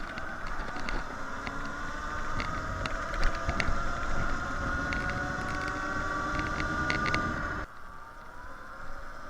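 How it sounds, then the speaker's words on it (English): A Sur Ron X electric bike's motor whirs steadily with layered tonal hums as it slows under regenerative braking, continuous and fairly loud with wind rush, cutting off abruptly near the end. "That like electric motor whir when you're coming to a stop with the regen"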